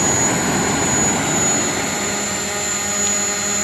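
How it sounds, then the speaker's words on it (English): Propellers of a fishing drone carrying a casting line over the ocean spin at speed, giving a loud, steady, continuous whine and roar with no breaks or voices. "these propellers look like they're spinning slow, but they're really spinning fast"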